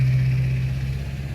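A loud truck in need of a new muffler, its engine rumbling heavily nearby with a strong low drone that eases off slightly toward the end.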